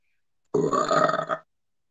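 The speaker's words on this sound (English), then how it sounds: "That was me. I burped." A single loud, throaty burp from a person indoors, lasting just under a second and standing alone against silence.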